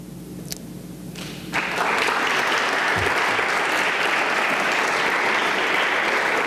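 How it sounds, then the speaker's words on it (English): A lecture audience breaks into loud, sustained clapping after a few scattered claps and a thump, the dense applause holding steady to the end. "And the way we do it in Uganda, we do it by our hands. So we clap."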